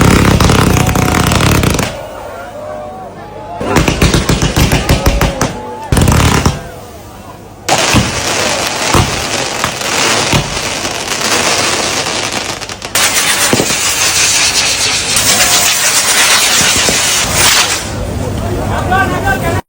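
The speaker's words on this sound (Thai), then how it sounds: "ตอนวางเพลิงก็จะมีการจุดพลุสวยงามแบบนี้เลยและจะให้ทุกคนฟังเสียงบรรยากาศไปนำกัน" Loud fireworks crackle and bang in rapid bursts at a cremation ceremony, with dense popping volleys, brief lulls between them, and occasional voices in the background.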